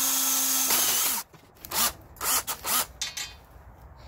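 A power drill with a step drill bit whines steadily, then bites in several short bursts as it cuts through material, close and alone.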